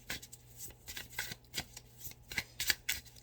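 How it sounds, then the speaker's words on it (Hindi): Tarot cards being shuffled and drawn, giving a run of soft papery riffles and flicks in irregular bursts, close and moderately quiet, with no voices over them. "मैं लास्ट कार्ड निकाल रही हूँ"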